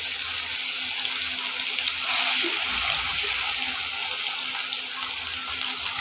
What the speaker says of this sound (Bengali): এই গরম তেলের মধ্যে আমি ডালগুলো ঢেলে দিচ্ছি।